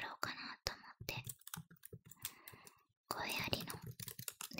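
Computer keyboard typing in a close-mic ASMR recording: bursts of soft, irregular key clicks, near and quiet, interleaved with whispered speech.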